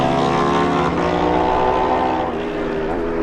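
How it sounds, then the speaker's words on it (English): A Kawasaki motorcycle races past during the 2018 Manx Grand Prix newcomers race at Ballacraine. Its engine is a loud, sustained drone that dips slightly in pitch toward the end. "we see number 32, Ray Maloney, passes on his Kawasaki"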